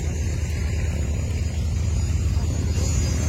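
A propeller airplane flies at an air show at Dijon air base, its engine drone a steady, loud, low rumble that persists without a break.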